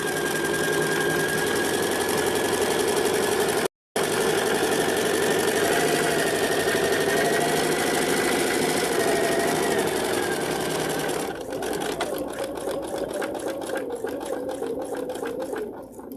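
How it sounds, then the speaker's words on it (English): A sewing machine stitches fabric right out to the edge, running steadily and loudly with a brief gap near the start and a changed, choppier rhythm toward the end. "we're going to sew all the way to the edge."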